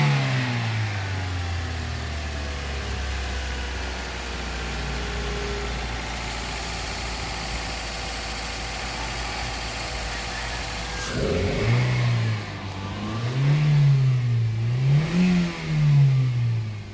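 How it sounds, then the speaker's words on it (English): A car engine warming up at a high idle after its choke was removed, a steady low drone that dips near the middle and then rises and falls in several uneven revs, loud and close, with no talking. "We're gonna heat up the engine,"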